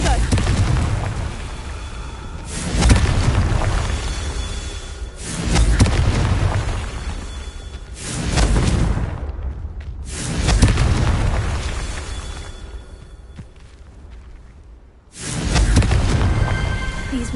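Confringo spell explosions in Hogwarts Legacy, five or six loud booming blasts a couple of seconds apart, each with a rumbling tail.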